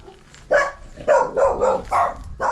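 A dog barks in several short bursts, fairly close and alone, at a home near Kurakhove in eastern Ukraine during the war.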